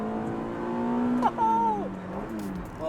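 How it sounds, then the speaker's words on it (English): A 1993 Honda CRX Del Sol VTi engine revs under load as VTEC engages, the steady drone climbing sharply in pitch midway, then settling as the driver shifts, heard from inside the car. "As you hear, VTEC kicks in."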